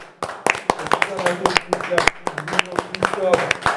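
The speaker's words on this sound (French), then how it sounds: "je pense qu'on peut tous s'applaudir" Guests on a television show clap their hands in scattered, uneven claps close by, with chatter and laughter going on over the clapping.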